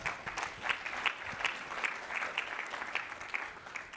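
Applause from a conference audience for the event's emcee, steady rhythmic clapping at moderate volume, heard from a short distance with no talking.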